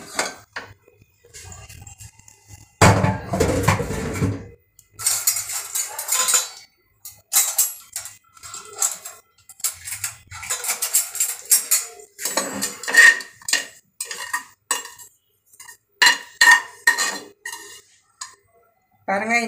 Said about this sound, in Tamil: இப்போ வந்து இது நான் லிட்டு ஓப்பன் பண்ணுறேன்